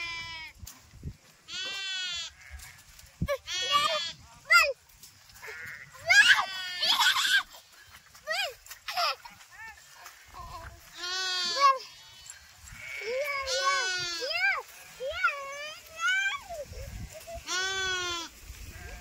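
Goats bleat repeatedly in wavering, quavering calls, several animals close by, with short pauses between bursts.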